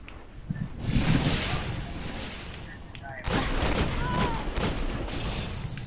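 Gunfire and explosive bursts from a Destiny multiplayer firefight, with a heavy boom near the one-second mark and another dense burst after about three seconds, loud and close, under chatter from players.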